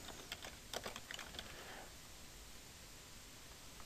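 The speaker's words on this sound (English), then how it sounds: "And now I'll do a colon and type in the answers." Quiet typing on a computer keyboard for a quiz answer: a short burst of light key clicks up front, then only a faint hiss of background noise, no talking.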